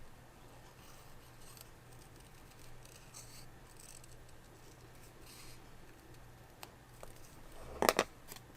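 Scissors snipping out a paper butterfly shape; the room stays quiet for most of the stretch before a few short, crisp cuts land close by near the end.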